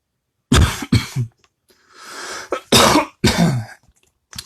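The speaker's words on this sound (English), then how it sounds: "Sorry about the cough, everyone." Several loud, harsh coughs close to the mic, in short bursts with a raspy throat-clearing rumble between them.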